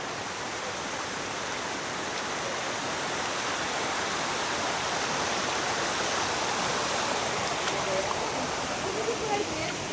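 Water rushing steadily along a flooded hiking trail on Oahu, a continuous broadband wash like a stream that holds at even loudness throughout, close and unbroken, with no voices over it.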